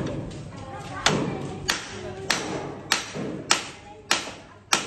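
A wooden house door, broken at the hinges, is laid down on the floor. Sharp thuds and knocks land at a regular pace of about one every half second, with background noise and voices between them.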